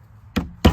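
Two sharp, close hammer strikes driving a nail into a wooden nesting box, evenly spaced about a third of a second apart against a quiet background.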